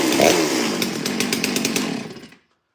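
A Stihl 08S clone chainsaw, copied from old MS660 drawings and fitted with new parts and a swapped carburetor, runs loud and close with a steady raspy engine drone that cuts off abruptly near the end.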